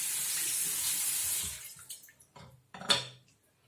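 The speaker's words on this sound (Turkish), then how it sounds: "Şimdi ellerimizi yıkıyoruz." Tap water runs steadily into a sink while hands are washed, then cuts off, leaving a few wet splashes and drips.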